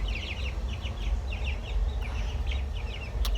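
Young chicks in a wire-mesh enclosure chirp in quick, high repeated peeps, a steady busy chorus over low rumbling background noise with no talking.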